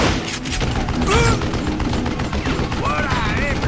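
Gunfire from the Wild West shooter Call of Juarez Gunslinger, dense repeated shots and blasts layered over game effects with someone talking throughout.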